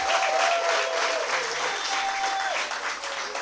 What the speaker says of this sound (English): I did not want to ask you to clap again. The applause sounded a bit anemic.